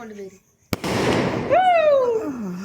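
At a Christmas celebration at a family home in Tamil Nadu, a single sharp firecracker bang cracks out close by, leaving a brief rumbling tail, while voices talk before and after it.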